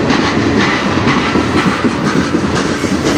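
A CN train rolls past near Sarnia station, with loud, close clickety-clack of railcar wheels over rail joints in a steady, continuous rumble.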